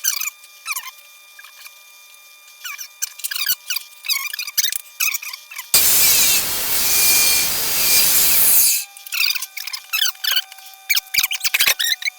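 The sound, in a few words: cutting metal for a Predator 212 motor mount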